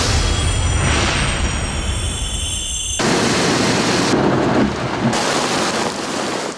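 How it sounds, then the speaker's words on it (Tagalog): Heavy sudden rain pouring down in Metro Manila at night, a loud, dense, continuous roar of downpour heard close up with abrupt shifts in texture, no voices. "Ganito kalakas ang ulan na bumulaga sa ilang bahagi ng Metro Manila mag-aalas 9 kagabi"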